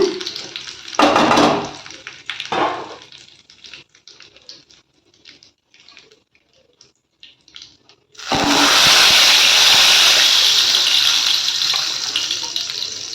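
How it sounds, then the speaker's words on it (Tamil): Ground thoothuvalai leaf mixture is poured into a hot tempering pan holding spluttered mustard seeds, curry leaves and asafoetida, starting with scattered spits and clatter before a loud, sustained sizzling hiss erupts and continues. "இப்போ இந்த கலவை வந்து ஊற்றியாச்சுங்க"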